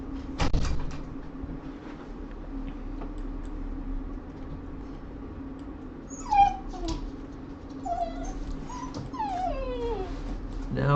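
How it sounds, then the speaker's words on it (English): A puppy whimpers and yelps in the background of a live tornado weather broadcast, faint high squeals and whines rising and falling near the end over a steady hum, with a thump early on. "now we got the puppy in the background"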